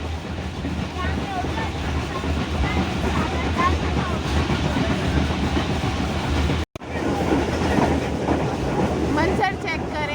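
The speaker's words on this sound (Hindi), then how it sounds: "ट्रेन गुजर रही है" A train rumbles past steadily and loud at close range, carrying a low continuous roar with faint rhythmic rattling along a green, watery stretch in Pakistan, broken by one brief gap in sound.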